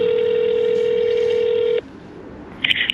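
A telephone line holds a steady, loud tone during a call transfer to a fire department office; the tone cuts off sharply partway through, followed by a brief quiet hiss and then a short burst of higher electronic tones.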